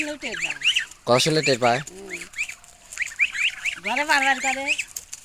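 Young geese calling up close, a run of nasal, honking calls in quick, uneven bursts with short pauses between them.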